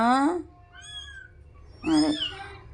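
Young kittens, some with eyes not yet open, give two short, close, high-pitched meows separated by a brief pause.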